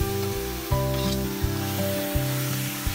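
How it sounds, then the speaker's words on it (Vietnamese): Marinated free-range chicken for a rustic Mekong Delta-style curry hits a hot pot, giving a strong, continuous close-up sizzle with a few soft clunks of the pot and utensil. "sau khi cái nồi đã nóng lên rồi, bắt đầu mình sẽ cho vào cái phần gà mà nãy giờ mình đã ướp gia vị"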